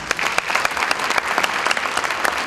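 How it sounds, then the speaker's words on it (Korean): A crowd at a university engineering college launch ceremony claps loudly, a thick burst of close, many-handed applause with sharp overlapping slaps throughout. "모두 큰 박수로 환영해 주시기 바랍니다."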